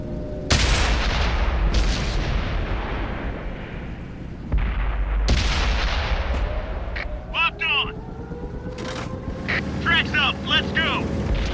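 Heavy tank cannon fire in World of Tanks, a T1 Heavy in battle: a few loud booming shots with rumbling tails, plus engine drone, metallic clanks and chirping effects, and voices calling out.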